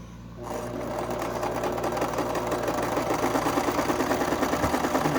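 A sewing machine stitches a quarter-inch fabric strip while quilting, starting up after a brief pause and then running in a steady, fast mechanical whir and rhythmic needle clatter, close and alone.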